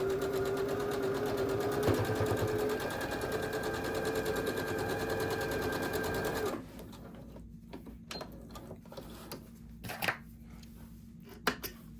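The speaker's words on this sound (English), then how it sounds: "go ahead and sew that 1/4 inch seam" Sewing machine stitching a quarter-inch quilt seam, a fast steady rattling hum for about six seconds, then stopping, leaving faint handling clicks and rustles.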